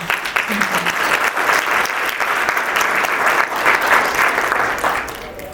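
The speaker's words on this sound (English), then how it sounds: "I think we should all give them a round of applause" An audience at a procurement keynote event bursts into loud, sustained applause, many hands clapping together for several seconds before it begins to fade.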